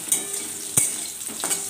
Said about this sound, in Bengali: এখানে উচ্ছেটা ভাজা হচ্ছে